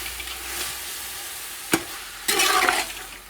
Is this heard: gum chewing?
no